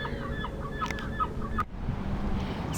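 Birds roosting on a roof at night outside a bush plane museum, a series of short clucking calls at a steady pace, moderately faint over a background hum, ending in a sharp click and quieter noise.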